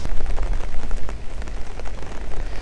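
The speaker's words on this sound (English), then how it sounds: "the rain has just been horrendous" Heavy storm rain pours down at Palmanova beach in Mallorca, a loud, dense and steady roar of drops close by with gusty swells throughout.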